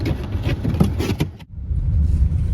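A car moves over snow with a steady engine and road rumble, briefly cut by a sharp dip before the drive noise resumes at a similar level.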